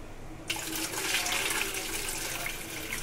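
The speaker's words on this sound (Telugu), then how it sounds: "మనము తీసేసుకొని వాటర్ వేసేసుకుందాము." Water pours steadily into a cooking pot for chicken biryani rice, a continuous rushing splash that starts abruptly and runs loud and close without pause.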